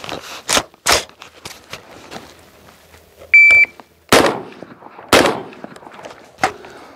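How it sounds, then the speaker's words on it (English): Unsuppressed supersonic shots from a custom 300 Blackout AR15 rifle, several sharp, loud cracks spaced irregularly outdoors with brief echoing tails, plus a short electronic beep partway through. "I'll go ahead and take the first shot unsuppressed so you guys can hear what that sounds like"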